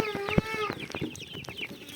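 Rooster and hens on a farm clucking close by, with short harmonic calls and a brief crow-like cry early on, then scattered clucks and soft scratching noises, with no talking.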